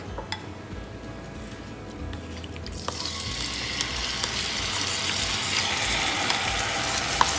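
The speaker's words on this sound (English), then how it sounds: "I'm adding about 1 tablespoon of oil to the kadhai, which is already heating up. And I'm going to just cook the shrimps real quick." Tiny shrimps fry in about a tablespoon of oil in a kadhai, giving a steady close sizzle that grows louder and brighter partway through, with occasional stirring clicks.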